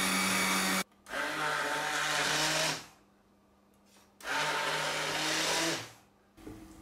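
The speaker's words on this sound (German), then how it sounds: "werde die Suppe pürieren" A blender purees a thick pumpkin and vegetable cream soup in two loud whirring bursts of about two and three seconds, separated by a quiet gap, with a brief motor blip at the end.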